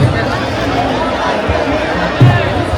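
Crowd babble at the Ekvira Aai palkhi procession, a steady outdoor hubbub of many mingled voices at close range with occasional bumps and louder moments.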